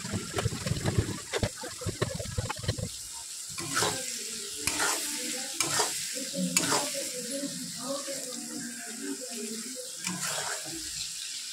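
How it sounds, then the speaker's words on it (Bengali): Chicken pieces sizzle and fry in a pan for egg chicken chow mein, with steady crackling and repeated scraping stir strokes throughout, fairly close. "আমি চিকেনগুলো ভালো করে ভেজে নিচ্ছি"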